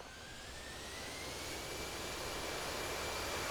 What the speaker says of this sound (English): Once our engines are up and running.